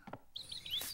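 A cartoon bird gives a few quick, bright chirps in a children's animated show about birdwatching. Soft voice-like sounds come just before the chirping.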